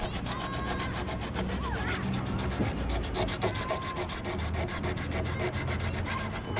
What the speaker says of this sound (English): we sand around the ding, because we're going to put a piece of fiberglass over the damaged area